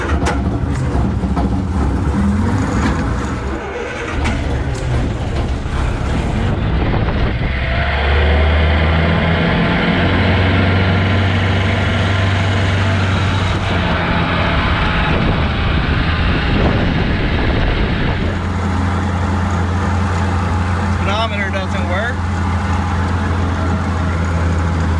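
An old barn-find Sprite car engine runs with a loud, steady mid-pitched drone as the car is driven out of a barn in first gear, revving and shifting in pitch over a long continuous stretch.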